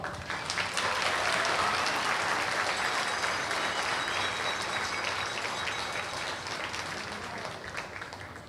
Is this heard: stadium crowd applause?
yes